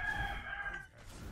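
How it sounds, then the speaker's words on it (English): A rooster crows once in a short, shrill, drawn-out call, heard at a distance over a low background rumble. "probably heard that, some roosters"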